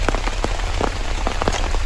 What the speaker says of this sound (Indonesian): Soalnya hujan.